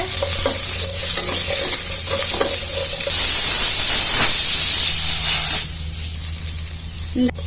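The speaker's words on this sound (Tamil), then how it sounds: "இப்போ இந்த வெங்காயத்தையும் நல்லா வதக்கிக்கோங்க." Small onions being sautéed in a pan for drumstick sambar, an intense sizzling hiss with scraping stirs, growing fiercer midway before easing, close and loud with no talk.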